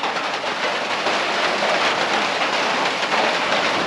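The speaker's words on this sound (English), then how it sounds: "We're in the shelter now while it's raining and a little bit of thunder." Steady heavy rain drums on the roof of an Appalachian Trail shelter in Vermont, a dense continuous hiss with no voices.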